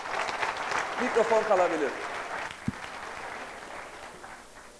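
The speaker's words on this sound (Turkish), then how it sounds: "Kocaman bir alkış." Audience applause breaks out at a talk on networking and marketing, a broad crackling wash of clapping heard under a voice and a brief hum, holding steady and slowly thinning toward the end.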